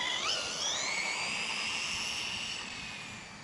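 A Traxxas Drag Slash RC car accelerating at half throttle, its electric whine rising steeply in pitch then holding a high steady tone as it speeds away, fading slightly at the end, with no voices.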